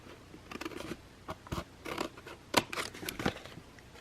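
Scissors snip through paper in a crafting project, a rectangle being cut away from a scored sheet: a quick run of crisp, close cuts and crunches in uneven rhythm, with no talking.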